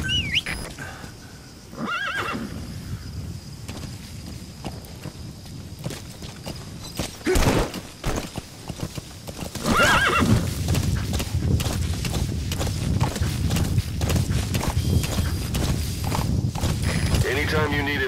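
A horse neighs and its hooves clop in Metal Gear Solid V: The Phantom Pain on PS4, with whinnies and footfalls mixed into dense game ambience and effects, loud and continuous throughout.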